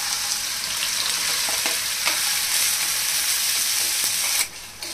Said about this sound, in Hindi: तो अभी हम तेल में डालेंगे जीरा और फ्लेम को कर देंगे लो, और इसमें डालेंगे जो हमने प्याज हरी मिर्ची लहसुन को काटा था वो